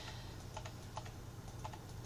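Computer keyboard keys tapped in a quick irregular run during Photoshop retouching of a newborn photo, soft close clicks with no speech.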